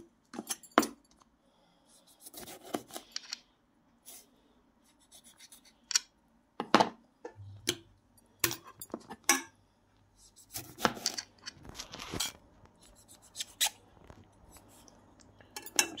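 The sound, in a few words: cutting tomatoes in half with a knife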